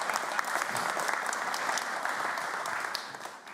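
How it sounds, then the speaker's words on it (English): Audience applause for a speaker at a talk, steady clapping from many hands that holds even and close, then begins to thin at the end. "give a round of applause for Tim"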